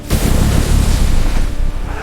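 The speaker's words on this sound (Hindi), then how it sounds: "लेकिन एक बम फट गया। धमाका इतना जोरदार था कि आसपास की दीवारें हिल गईं।" A single heavy bomb blast erupts loud and close, a deep booming burst that rolls into a long rumbling decay.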